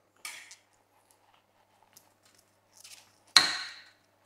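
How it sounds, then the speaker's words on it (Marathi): A kitchen knife cuts onion finely on a board in a home kitchen, two or three brief close chopping strokes with the last one loudest, surrounded by near silence. "लगेच मी तुम्हाला कांदा कापून देतो"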